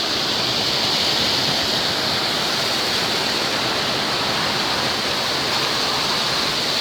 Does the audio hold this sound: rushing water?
yes